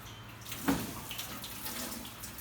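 Faucet water rinsing an indoor garden planting, a soft, steady splashing and trickle that runs the whole time at low volume, close by.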